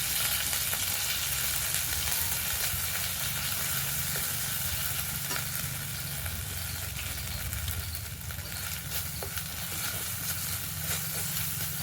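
Ground ginger and cumin paste fries in a pan, giving a continuous close sizzle and crackle that stays steady for about twelve seconds with no voices.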